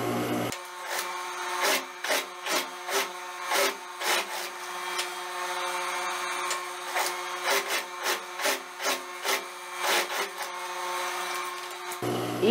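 Sewing machine stitching a sleeve hem: a close, steady mechanical whir with rapid rhythmic needle clatter pulses in uneven bursts as the fabric is fed, running continuously without voices.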